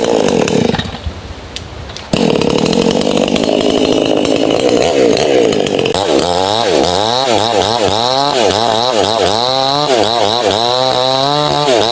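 A chainsaw idles and then roars loudly, its engine revving up and down repeatedly as it bites through wood.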